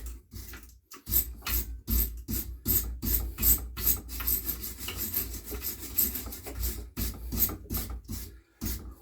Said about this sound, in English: So, I have found me wire brush.